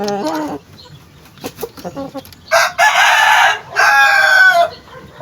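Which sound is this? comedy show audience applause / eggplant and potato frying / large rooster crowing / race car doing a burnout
large rooster crowing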